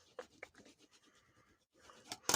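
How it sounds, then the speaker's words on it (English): Paper stickers rubbed down with a burnishing tool, giving soft scratchy strokes in short bursts, with a couple of sharper rubs near the end, close and fairly quiet. "I like to burnish my stickers down"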